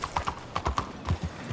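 Horse hooves clip-clop at a steady, brisk rhythm in Red Dead Redemption 2, a string of close, distinct hoof strikes over a faint tonal game layer.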